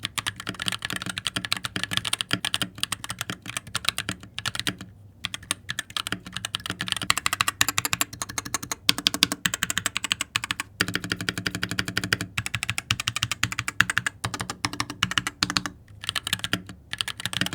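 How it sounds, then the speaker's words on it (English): Fast, steady typing on a custom mechanical keyboard fitted with tactile Holy Panda switches. The keystrokes are close and clattering, a continuous rapid patter with a few brief pauses throughout. "those holy pandas make it feel incredible too. Like there's just it's an enjoyable click of typing"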